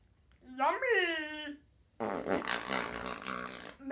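A drawn-out, raspy fart sound follows a rising, sing-song voice, loud and close, lasting nearly two seconds before cutting off.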